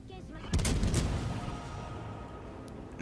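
Warships in World of Warships Legends open fire together, a burst of heavy gun blasts that then rolls into a sustained rumble of continuing fire and booming.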